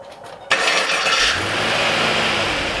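A Pontiac G8 engine with a freshly repaired starter cranks and catches with a sudden loud burst, then settles into a steady, throaty idle close by.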